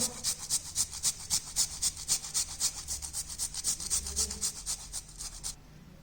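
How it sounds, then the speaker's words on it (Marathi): A peeled raw potato is rubbed back and forth over a fine grater, producing fast, even rasping strokes in a steady rhythm, close and fairly quiet, stopping just before the end. "आता आपण अशी बारीक खिसणी घ्यायची आणि खिसणीवर हा बटाटा आपण खिसून घेणार आहोत"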